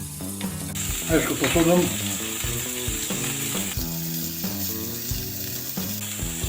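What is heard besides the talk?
eggplant and zucchini frying in a pan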